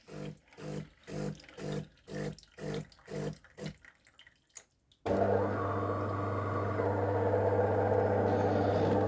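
A DeLonghi ECAM 23.450 bean-to-cup coffee machine runs its rinse cycle: pulsing pump surges repeat about twice a second, then a pause, followed by a steady loud hum of the motor and water flowing through the unit.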